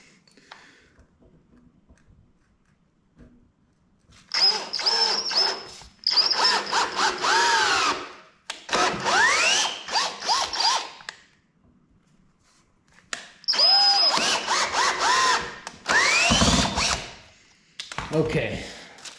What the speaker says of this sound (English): let's go ahead and put one screw in there